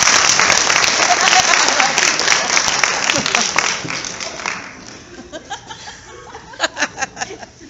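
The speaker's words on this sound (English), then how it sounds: "Give them a nice round of applause." A crowd at a high school after-prom claps loudly and continuously, then the applause thins out to scattered claps and a few chuckles.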